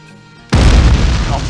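A sudden, very loud video game explosion hits as one booming blast with a deep, rumbling low end that rolls on after the first impact and drowns out the quiet background.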